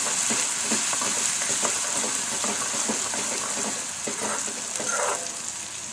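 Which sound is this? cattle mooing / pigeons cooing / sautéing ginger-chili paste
sautéing ginger-chili paste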